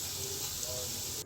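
Pumpkin leaf pakoras sizzling in hot oil on a gas flame, a steady close hiss and crackle throughout with no break.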